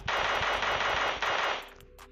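Rapid automatic fire from a PP-Bizon SMG in PUBG Mobile Lite, a loud sustained burst with a short break near the middle, then a fading echo and a few scattered faint clicks.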